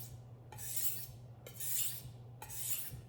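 A chef's knife drawn across a fine whetstone in three slow, even strokes, each a smooth close rasping swish separated by brief pauses, with a low hum underneath.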